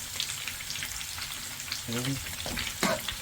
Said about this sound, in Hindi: इसको हम कीमे को अच्छी तरह भूनेंगे